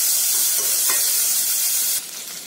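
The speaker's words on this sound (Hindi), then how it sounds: "डालेंगे ये कटा हुआ प्याज और प्याज को 1-2 मिनट भून लेंगे" Chopped onion frying in hot oil in a kadai, a steady close sizzle and hiss with a faint stir partway through, the sizzle dropping slightly near the end.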